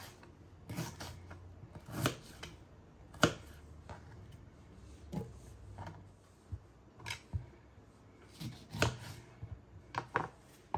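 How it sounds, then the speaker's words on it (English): Knife cutting fresh ginger on a board while making an anti-inflammatory immune-boosting drink, heard as a dozen or so irregular close chops and scrapes with short pauses between them, with no talking. "Then I'll cut the ginger."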